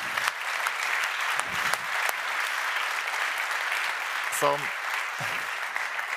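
Audience applause at a software conference, a dense, steady clapping from a crowd that continues throughout, with a brief spoken word partway through.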